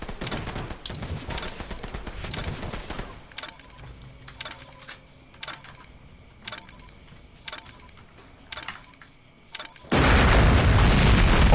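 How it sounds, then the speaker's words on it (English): A deep, booming explosion from the horror video game Alone in the Dark: Illumination, with a loud broadband blast at the start, quieter rumbling and scattered sharp cracks in between, then a second loud, sustained burst near the end. "That was a sound effect for the explosion."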